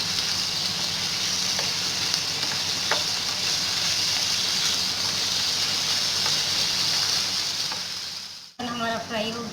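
Julienne-cut chicken frying in a pan for a shawarma sandwich, a steady loud sizzle with a few faint clicks of stirring, ending abruptly with a brief clatter.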